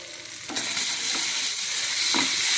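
A spoon stirs Chettinad prawn gravy in a pan, scraping through the thick mix with a few distinct strokes over a steady close sizzle of oil.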